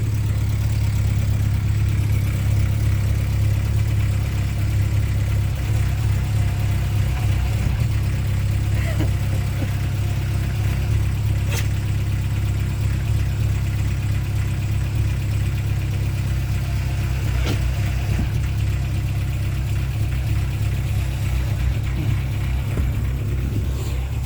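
A Mazda MPS engine runs at a steady idle with its long-unused power steering pump engaged, a loud, continuous, close rumble with a constant low drone and faint higher whine throughout.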